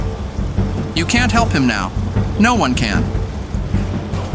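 Thunderstorm rain in the Romance Club video game: steady rainfall with rolling thunder underneath, heard beneath dialogue spoken by several voices throughout.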